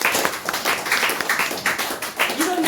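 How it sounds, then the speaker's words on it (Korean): A lecture audience claps briefly at a talk on blockchain and file storage, with uneven, moderately loud clapping from a small group and a voice speaking near the end. "박수 한번 주세요, 여러분들"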